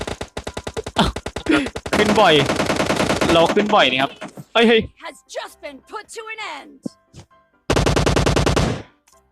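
Rapid gunfire in the game PUBG Mobile rattles in quick bursts near the start and again toward the end, loud and close, while someone talks excitedly between and over the shots.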